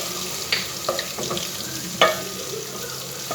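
Ginger garlic paste frying with onions in a pan for aloo pulao, a steady close sizzle broken by a few sharp clinks and scrapes of a spoon against the pan, with no talking.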